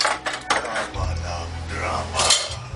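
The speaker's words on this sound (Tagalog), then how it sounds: "sagugas ako ng pinggan" Dishes and cutlery clatter in a sink during washing, a few sharp clinks and scrapes up close over a low running rumble, with a voice audible faintly in the background.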